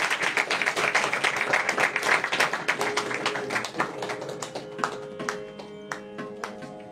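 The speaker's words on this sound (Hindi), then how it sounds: "इसलिए इनका एक बार जोरदार तालियों से" A live music gathering breaks into loud clapping, dense and strong at first, then thinning into scattered claps as a few sustained instrument tones and faint voices rise underneath.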